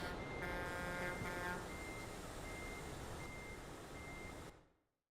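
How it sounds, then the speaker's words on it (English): Heavy trucks in a Euro Truck Simulator 2 convoy rumble together in a loud, dense engine roar, with a steady electronic beeping tone over the first second and a half, before the sound cuts off abruptly near the end. "there's a lot of noise from all the trucks"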